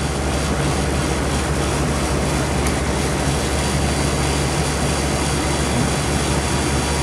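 A Nordyne 3-ton air conditioner condenser fan motor runs steadily, a loud, constant broadband whoosh with a low hum underneath, unchanging throughout and with no talking.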